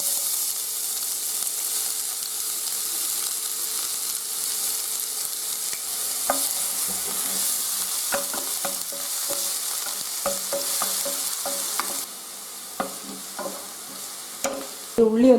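A small, finely chopped onion fries in hot coconut oil, giving a steady, close broadband sizzle with occasional sharp spoon-against-pan clicks and scrapes from stirring, with no voices.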